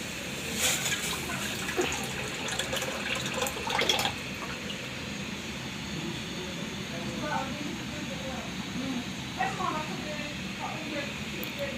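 Cold coconut water poured into a cooking pot for an agar-agar pudding, a steady liquid splash and trickle running under a voice speaking throughout.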